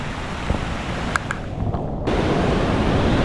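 Ocean waves washing into the To Sua trench pool in Samoa, a loud, continuous roar of surf and wind noise with a few faint clicks in the middle.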